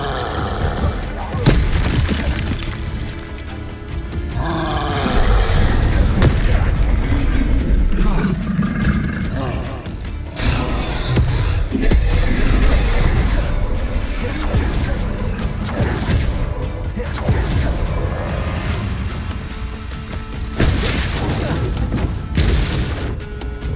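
Repeated Bombarda spell explosions boom and crash loudly through a Hogwarts Legacy battle, layered over continuous game music and combat noise with no clear gaps.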